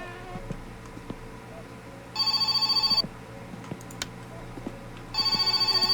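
A telephone rings inside a dark house in the game My Summer Car, two bright trilling bursts about three seconds apart over a low, steady insect-like background drone.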